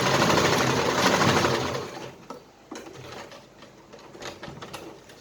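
A sewing machine back stitching a seam while fixing a zipper, a loud steady whirring run for about two seconds followed by short, quieter stitching bursts and clicks, close up.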